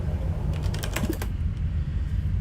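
Quick bursts of keystrokes on a computer keyboard while commands are entered during a game of Duskers, a flurry of close taps followed by a few isolated presses over a steady background hum.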